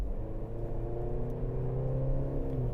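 A 2023 Maserati Grecale luxury crossover accelerating, its engine note rising steadily in a smooth, continuous drone as heard from inside the cabin, moderately loud with no talking.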